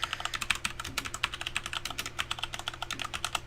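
Quick, uneven bursts of key presses on a computer keyboard as a passphrase is typed, crisp clicks close up and fairly quiet, with short pauses between clusters and no voices.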